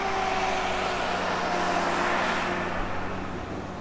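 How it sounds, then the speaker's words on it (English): A car driving up a mountain road toward Durbuk Pass in Ladakh, with a continuous loud engine and road rumble heard from inside the vehicle that eases slightly toward the end. "Driving along the road, going up to the Durbuk Pass, and then onwards to Lake Pangong."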